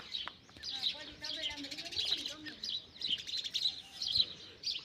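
A sparrow in a village setting chirps in quick, repeated bursts near the listener, while a person talks softly underneath.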